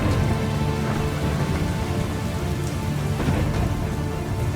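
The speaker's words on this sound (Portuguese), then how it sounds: "It was about to rain." Heavy rain with thunder, a loud continuous wash of falling water with low rumbling underneath and a couple of brief louder swells, no voices.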